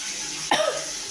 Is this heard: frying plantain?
no